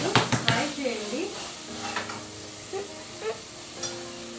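Cluster bean curry stirred and frying in a pan, a few clinks of a spoon against metal and a soft sizzle, louder at the start then sparser, with a voice talking over it.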